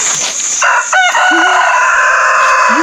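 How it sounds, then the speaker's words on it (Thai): A rooster crows loudly nearby at Ban Huai Nam Sai, Suan Phueng, Thailand, a bright drawn-out call over steady background hiss, followed by a couple of low clucks from other fowl. "ไก่มาต้อนรับเราด้วย"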